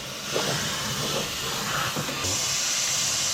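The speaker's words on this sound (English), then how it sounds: "So what we do is reach in here, and you see how much that fogs." Fog undercoating sprayed into the corner of a truck cab and along the rocker panel during rust-proofing, a steady close hiss of spray that shifts in tone partway through, with no talking.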